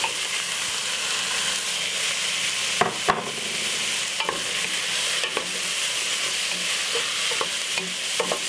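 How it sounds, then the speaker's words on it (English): Broccoli, baby corn, green beans and carrot stir-fry in a pan for jerk spaghetti, giving a steady loud sizzle broken by occasional scraping clacks of stirring, with no voices. "Then we're gonna put in veg, broccoli, baby corn, green bean,"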